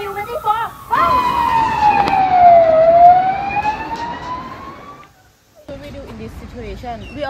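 A loud wailing siren sweeps down and back up in pitch for several seconds, with voices talking before and after it.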